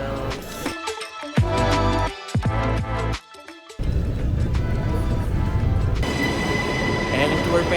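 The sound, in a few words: train arriving in Brussels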